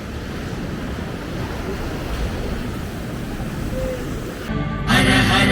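Sea waves wash onto the shore at Harihareshwar on the Konkan coast, a steady distant surf roar mixed with wind, and a brief louder burst near the end.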